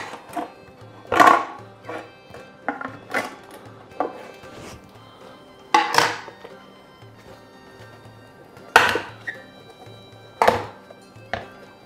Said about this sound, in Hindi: वो इसको हम इसके ऊपर रखेंगे और इसको हम पलटेंगे अपसाइड डाउन।